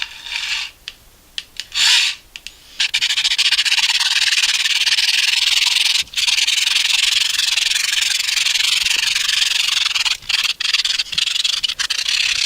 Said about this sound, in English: Now, just start sawing back and forth until you get all the way through.